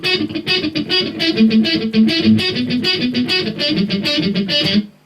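Tight, chugging palm-muted electric guitar picking single notes in a fast, steady rhythm, distorted and close, with no voices.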